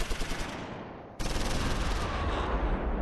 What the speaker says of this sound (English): Few rifle rounds won't hurt.